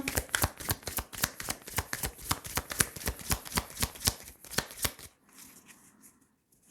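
Tarot cards are shuffled in a quick, steady series of crisp riffling slaps for about five seconds, close and clear, followed by quieter handling of the deck.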